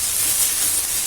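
Padang satay chili spice paste sautéing in a pan, giving a steady, close hiss of sizzling with no talk over it.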